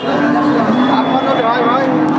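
Cattle lowing at a crowded livestock market in Jessore, where thin, bony six-toothed cows are for sale; a steady, loud bellowing drone runs throughout amid dense crowd noise and voices.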